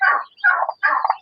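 Several turkeys gobble in three rapid, warbling bursts separated by short pauses, fairly close and loud with no talk.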